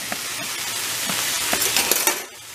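A garlic mixture with soy and salt sizzles steadily in a pan for stir fry, with a bright frying hiss and several light scraping and clinking stirs against the pan.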